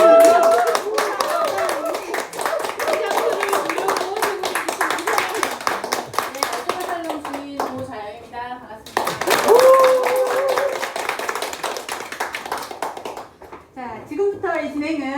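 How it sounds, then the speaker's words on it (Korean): Audience applause fills a room at an architecture exhibition opening talk in Ulsan: dense, sustained clapping that dips briefly midway and then swells again, with a voice speaking over it. "박수로 환영합니다"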